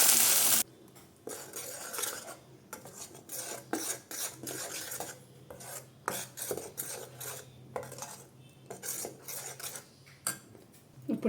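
A spice paste for Maharashtrian egg rassa fries in hot oil, with a low sizzle under frequent scraping and clinking of a metal spoon stirring in the pan, close and fairly loud, with no talking.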